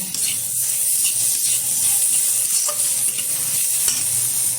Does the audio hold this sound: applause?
no